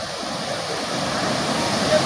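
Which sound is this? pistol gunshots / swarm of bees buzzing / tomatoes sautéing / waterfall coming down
waterfall coming down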